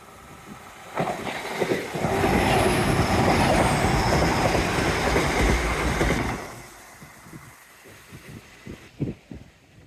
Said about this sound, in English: Another little toot at spray point alerts me to a train.